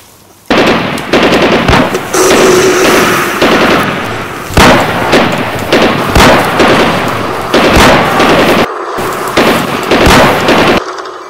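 Sustained machine-gun fire in a war setting, loud and close, with rapid bursts of repeated shots continuing almost without pause, broken by one brief gap near the end.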